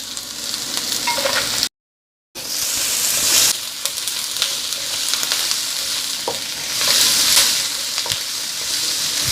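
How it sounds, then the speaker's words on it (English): Snap peas stir-frying with beef in a hot pan, a loud steady sizzle running throughout with light stirring clatter and a brief dropout early on, no talking. "Gonna add some snap peas."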